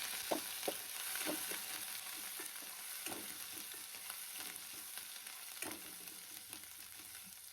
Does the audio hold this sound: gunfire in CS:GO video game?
no